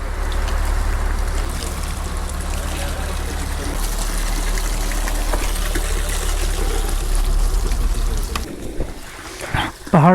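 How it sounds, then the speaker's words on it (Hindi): Water runs and trickles steadily from a mountain spring as a bottle is filled, a continuous splashing flow with a low rumble that drops off partway, ending with a brief louder disturbance near the close. "यहाँ से अपनी पानी की बोतल भी भर लेते हैं।"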